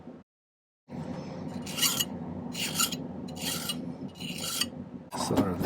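A silver earring piece being filed by hand, a close, rhythmic rasping with about five strong strokes at regular intervals over a continuous scraping rub.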